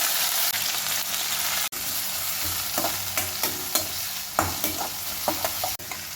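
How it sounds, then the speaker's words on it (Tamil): Onions are tossed into oil already crackling with mustard seeds, cumin and dried chillies for a brinjal side dish, giving a loud, continuous sizzle with repeated close scrapes of the spatula against the pan. "தாளிப்பு பொருளெல்லாம் பொறிஞ்சிடுச்சு எடுத்து வச்சுருந்து வெங்காயம் சேர்த்துக்கலாம்"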